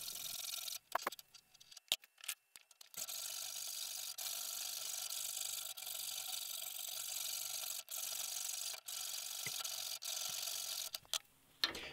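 A metal cone for a medieval beer tap is filed with crossing strokes, giving repeated rasping strokes, near and moderately loud, with brief pauses between passes.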